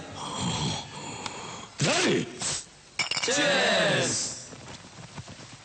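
Glasses clink together in a cheers toast during a Telugu film scene, a few bright chinks heard amid talking voices and background sound.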